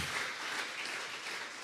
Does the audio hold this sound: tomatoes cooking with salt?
no